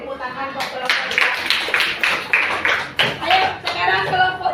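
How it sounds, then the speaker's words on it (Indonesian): A group claps for group 3 in a classroom coaching session, with bursts of hand clapping in uneven rhythm coming in a few waves at moderate volume, under and around talking voices. "Tepuk tangan buat kelompok 3."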